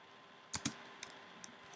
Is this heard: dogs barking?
no